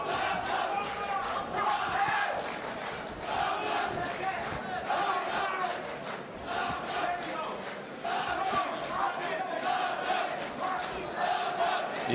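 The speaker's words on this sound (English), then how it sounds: "You hear the crowd's into the fight. They're yelling Hussar." Boxing arena crowd at a Polish heavyweight bout chanting and yelling "Hussar" in rolling waves, a loud sustained roar of many voices under an excited commentator.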